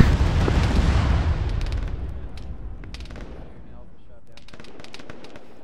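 Gunfire and heavy booms in the military game Arma during a ShackTac session, a loud burst of shots and blasts at the start that rumbles and decays, with scattered sharper cracks following at a distance.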